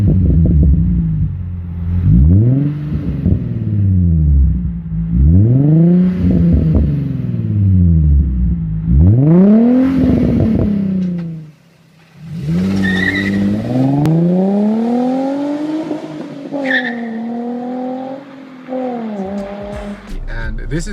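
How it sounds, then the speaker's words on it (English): A Nissan 350Z with an Arc Grip exhaust revs repeatedly, each rise and fall of the VQ engine loud and close, followed by longer climbing pulls as it accelerates. "Number 2 is going to be the Arc Grip exhaust for the 350Z."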